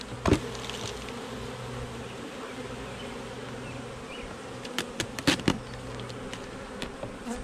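Honeybees buzz continuously around an open nuc during a hive transfer, a close droning hum with a few sharp knocks and clicks from handling the equipment.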